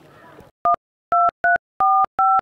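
Telephone dial tones while placing a call: five short two-tone beeps in an irregular rhythm, loud and close, following a brief stretch of low background noise.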